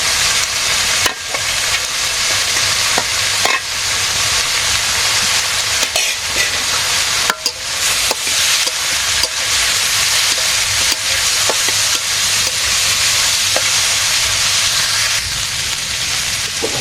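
Potato bhaji fries in a pan with a loud, constant sizzle and hiss, broken by intermittent scraping as it is stirred.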